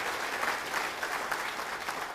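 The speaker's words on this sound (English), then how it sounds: "So big round of applause for you all" Audience at a university event applauding, a dense, even burst of many hands clapping that fills the short moment without any voices.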